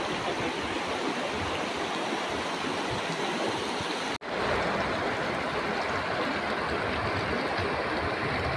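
Steady rushing of a river swollen and muddied by two days of rain near Sunderkhal, Jim Corbett, flows loudly and continuously, with a brief dropout midway before the same broad roar resumes.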